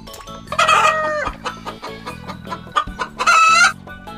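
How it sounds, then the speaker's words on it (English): A chicken sounds two loud bursts of clucking, harmonic calls with crowing character, over a steady low tonal background hum or music, with brief quieter clicks and taps between the calls. "Chicken."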